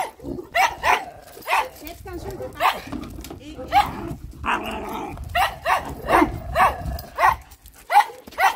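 A Schipperke dog barks in short, sharp bursts and growls between them, close and loud, as a person talks soothingly in French throughout.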